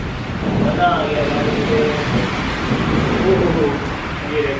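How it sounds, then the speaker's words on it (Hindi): Heavy rain pours down outdoors in cool, wet monsoon weather, a steady, close, dense hiss of falling water that holds loud and unbroken throughout. "एकदम ठंडा ठंडा बारिश का मौसम बया रहा है"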